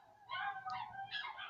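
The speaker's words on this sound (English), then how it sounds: "I hope you can't hear all those dogs barking" Dogs bark and yip faintly in the distance, a short cluster of high, sharp calls over a quiet background.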